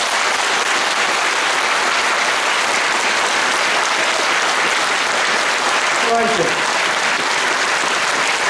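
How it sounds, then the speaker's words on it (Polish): Crowd applause at a political meeting with Janusz Korwin-Mikke in Iława, dense steady clapping from a packed room throughout, with a voice briefly heard over it. "pokażcie naszemu kandydatowi na prezydenta oklaskami"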